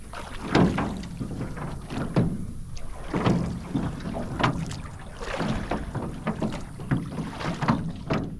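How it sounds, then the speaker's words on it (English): Paddles stroke through the water of a Florida lake as a rowboat is rowed, with rhythmic splashing and knocking pulses about once a second, close by, over light wind noise. "actually the paddles are working pretty well"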